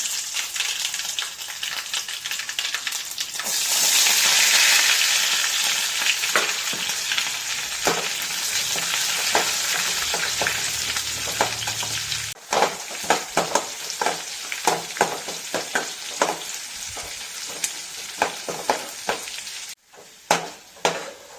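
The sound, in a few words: mustard seeds spluttering in hot oil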